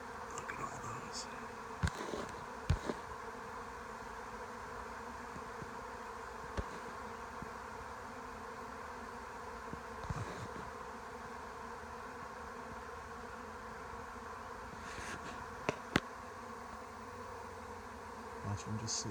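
A dense, steady buzzing of a honeybee swarm fills the air continuously, close around, with occasional louder individual buzzes passing by.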